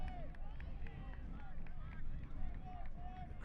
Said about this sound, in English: The crowd loud and proud here at Koskinen.